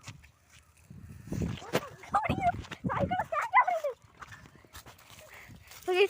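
A dog outdoors barks, whines and yelps in several uneven bursts, close by, during a bicycle ride, with sharp rhythmic thumps alongside.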